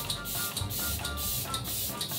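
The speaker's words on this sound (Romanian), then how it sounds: "Spray de fixare. Eu îl folosesc pe cel de la Morphe." A Morphe makeup setting spray is pumped in quick hissing bursts, about five even sprays in a steady rhythm, close and with no talk.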